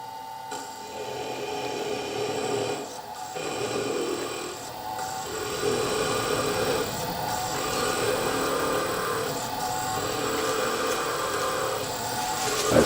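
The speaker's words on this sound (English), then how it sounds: "this drill, the actual drill's hardly spinning at all" A drill with a 1.5 millimeter bit grinding through a stone bead, a steady whirring drone with gritty abrasive texture and small surges, continuous and close.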